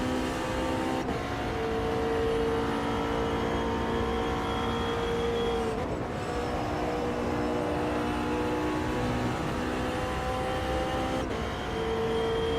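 Gen 2 Viper race car in the Project Motor Racing video game, engine droning at a steady high pitch with gear shifts at intervals, brief dips and pickups as it accelerates down the track.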